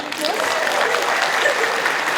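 A rally audience gives a round of applause, a dense, even wash of clapping from a large crowd in a hall, loud and continuous throughout.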